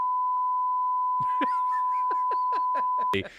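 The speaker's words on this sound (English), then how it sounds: "It's not just a beep, it's actually censoring yourself" Censor beep fired from a Stream Deck: a sustained pure tone holds for about three seconds, running over rhythmic laughter, then cuts off abruptly.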